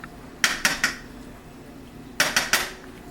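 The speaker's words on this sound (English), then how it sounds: "I'm going to transfer my cheese and butter to this skillet" Cheese and butter are moved into a skillet for a Cajun seafood fondue, giving two quick sets of three sharp, close metallic clinks of a utensil against the pan, with a brief quiet gap between them.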